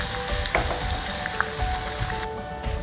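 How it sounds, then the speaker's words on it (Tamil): Garlic frying in hot oil, a dense close crackle and sizzle with scattered pops, steady and unbroken, no voices. "ஃப்ரை பண்ணி அதில் போட போகிறோம்."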